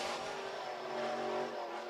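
A sprint car engine drones steadily during a time trial lap at a race track, heard from a distance as a faint, sustained buzz with no talk over it.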